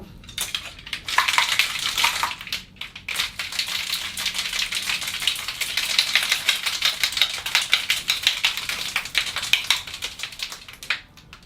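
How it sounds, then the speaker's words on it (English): A cocktail shaker full of ice gets a hard shake for a Roosevelt cocktail. Loud, fast, steady rattling and clatter lasts about ten seconds, close to the mic, with no voice over it. "So put your lid on and give it a nice good shake"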